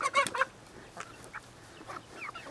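A large flock of chickens kept in a run by the sea, with a few loud, close squawking calls at first, then fainter scattered clucks over quiet outdoor background.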